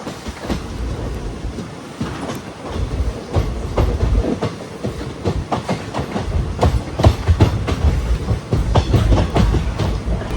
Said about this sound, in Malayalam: അമൃത എക്സ്പ്രസ് അങ്ങനെ രാമേശ്വരം അടുത്തോണ്ടിരിക്കുകയാണ്.